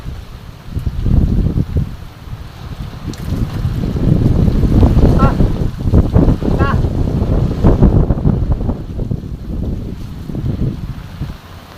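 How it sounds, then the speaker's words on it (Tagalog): Strong wind roars and buffets continuously, with heavy rain rushing steadily underneath, loud and close throughout. "Lakas na naman ang ulan."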